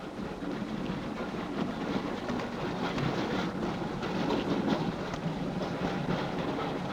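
A train rumbles along its rails in a steady, dense roar that holds at an even level throughout, with no voices.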